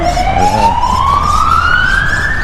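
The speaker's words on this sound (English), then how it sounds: "Is the ambulance going?" An ambulance siren wails loud and close on a busy road, one long rising tone sweeping steadily upward over a constant rumble of passing traffic.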